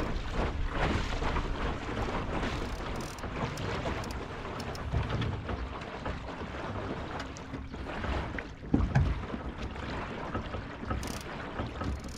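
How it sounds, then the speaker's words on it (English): A tiny sailboat under sail on a river in Portugal, with a continuous rush of wind and water broken by a few soft knocks and bumps, no voices. "But not before I found some wind and had a quick sail."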